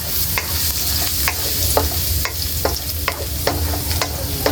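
Garlic sizzles steadily in a hot pan with repeated scraping strokes of a spatula stirring it, a continuous close frying hiss broken by regular clinks and scrapes.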